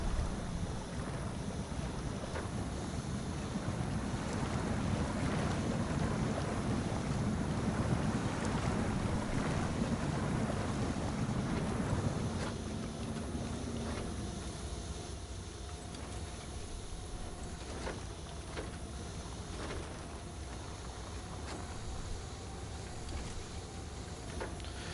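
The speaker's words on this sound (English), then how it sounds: "Just weird how this thing is so quiet, and just hearing that hiss of the engine" Quiet logging truck engine in SnowRunner giving off a steady low hiss and rumble, with a heavier broadband wash early that thins into a softer, even drone; no talking.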